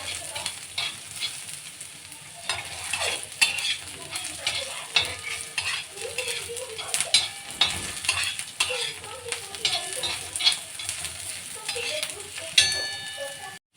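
Grated coconut sizzles and roasts in hot oil in a pan for misal pav, a steady frying hiss with frequent scraping stir strokes and light utensil clinks, close up and without talk.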